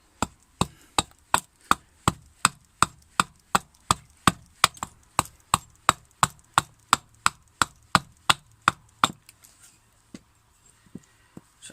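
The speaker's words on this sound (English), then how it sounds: "So I'm using the axe" An axe chopping wood while carving a fork, about two dozen sharp, evenly spaced blows close by in a steady rhythm, thinning to a few softer hits at the end, with no talk.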